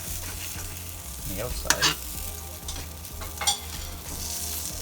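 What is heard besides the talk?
homemade veggie burgers frying in a pan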